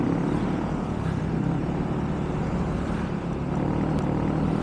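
Airplane flying overhead during a motorcycle charity ride in Quezon City, a steady loud engine roar with a constant rumble throughout, no speech.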